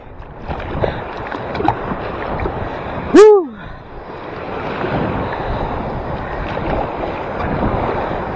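Sea waves wash and break around a fishing kayak far out at sea, a loud steady surge with wind buffeting the microphone and one brief sharp whistle-like sweep partway through.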